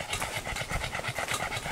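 A dog pants rapidly and steadily close by on a hot forest trail, the quick rhythmic breaths continuing without pause.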